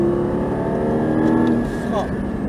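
Race car on a circuit at Manoir de l'automobile Lohéac under full throttle, a steady loud engine drone rising slightly in pitch, close and continuous, with a driver talking over it.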